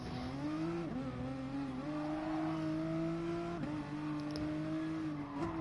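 Race car engine in the GT Sport video game at Mount Panorama, revving hard and high in a loud sustained whine with brief pitch dips at gear shifts and no talking.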